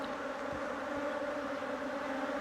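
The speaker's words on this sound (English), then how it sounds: "all the sound that you can hear is actually from them buzzing around my head" Honey bees buzzing close around a beekeeper's head, a continuous steady drone with a few louder passes of bees flying near, and no voices.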